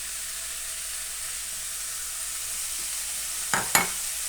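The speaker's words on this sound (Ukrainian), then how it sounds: "і це все ретельно перемішуємо" Vegetables for a mushroom risotto (corn and peas) are stirred in a sizzling pan, a steady soft frying hiss broken by two sharp scraping stirs near the end.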